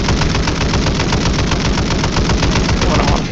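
Sustained rapid automatic gunfire in a Warzone 3 Plunder match, a loud unbroken stream of shots lasting the full few seconds with no pauses.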